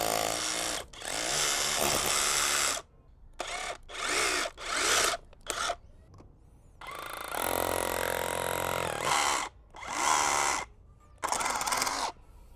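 SDS hammer drill fitted with a tungsten carbide chisel-shaped bit, chipping at a flush head sleeve bolt: loud, close bursts of rattling hammering, several short stop-start runs separated by brief pauses.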